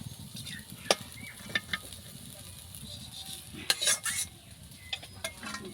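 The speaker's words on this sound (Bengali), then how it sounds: "আর কিছুক্ষণ নাড়াচাড়া করে নামিয়ে নেব" Mung dal kachori filling being stirred in a pan, soft scraping and occasional spoon clinks over a faint low sizzle, fairly quiet and close.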